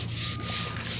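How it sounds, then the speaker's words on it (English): A Scotch-Brite pad rubs over truck body paint with a steady, close abrasive scrubbing that runs continuously through a brief stretch, with no voices. "you might be able to use the Scotch-Brite pad to go ahead and smooth it out a little bit"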